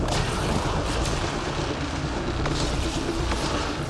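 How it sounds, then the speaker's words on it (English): Grenades go off in Mass Effect: Andromeda combat, a dense, continuous rumble of booming blasts with a few sharper cracks layered over the roar, loud and close throughout. "Now we got nades."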